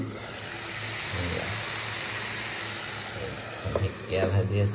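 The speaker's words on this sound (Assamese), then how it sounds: "দেখিছেনে এয়া ঢেকিয়া ভাজি আছো" Dhekia fern greens frying in a pan, a steady broad sizzle and hiss running throughout, with a few louder bursts of crackling near the end.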